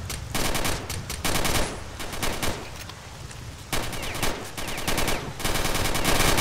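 Gunfire in the shooter game STALKER: Shadow of Chernobyl, loud rapid bursts of automatic fire and shotgun blasts packed close together, broken by short pauses, with no voices over them.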